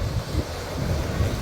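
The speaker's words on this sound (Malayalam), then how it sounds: "കടലിൻ്റെ ഇരമ്പൽ നന്നായിട്ട് കേൾക്കാം" Sea waves surging onto the shore at Kanyakumari's sunrise point before dawn. The surf rumbles in a steady, loud low wash with wind buffeting the microphone, and there is no talk.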